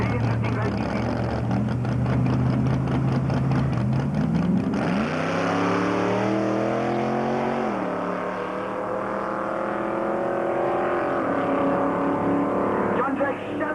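Drag racing car launching down the quarter mile at Tarlton in 1997, a loud roaring engine note rising and sweeping in pitch as it accelerates away, with commentary heard under the noise.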